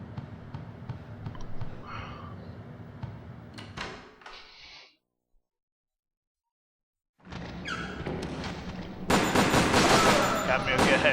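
Gunfire in the PS2 game Resident Evil Dead Aim while shooting slow classic zombies: loud dense game audio with bursts of shots, a sudden drop to near silence, then a louder burst of firing at the end.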